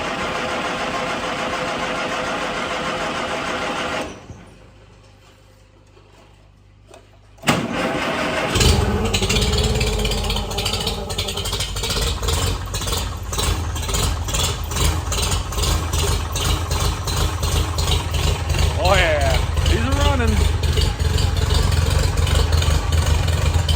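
An old tractor engine idles, cuts to near silence, then cranks and roars to life, settling into a loud, rhythmic chugging with occasional revs.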